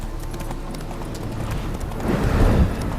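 A spooked horse in the video game The Witcher 3: Hearts of Stone clatters its hooves in a quick, uneven clip-clop that grows louder and more agitated toward the end, with a faint whinny and no clear speech.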